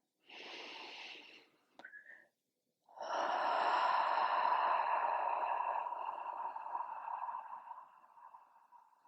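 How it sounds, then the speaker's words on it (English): An audible breath pushed out through the mouth during a yoga flow: a short breathy puff, a brief pause, then a long soft sighing exhale that slowly fades, close and quiet. "exhale out your mouth with a little audible sound"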